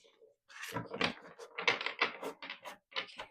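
A deck of tarot cards is shuffled by hand in a rapid run of crisp riffling and flicking bursts, close and fairly loud, with no talking.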